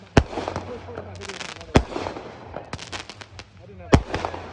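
Firework mortars thump and crack in a rapid series of sharp close bursts with crackling between them at a large Fourth of July backyard display, with voices underneath.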